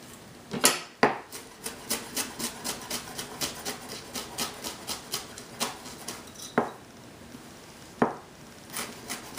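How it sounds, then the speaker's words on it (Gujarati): A knife chops fresh mint and coriander on a board in quick, regular taps, about three per second, close and crisp, with a few heavier knocks between runs. "ઝીણી ઝીણી આઈટમ કાપી નાખશું।"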